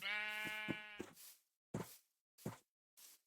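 Sheep bleat in a Minecraft-style video game world. One long, loud bleat is followed by three short, clipped bleats, each separated by silence.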